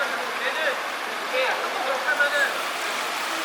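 Water runs in a city canal in Seoul, South Korea, giving an even, soft rushing wash with faint gurgles over the whole stretch. Brief bits of distant voices sit under the flow.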